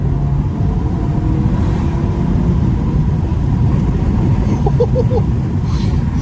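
A VW Golf 7 GTI engine accelerating hard, with a steady, loud, low rumble that fills the whole stretch without a break.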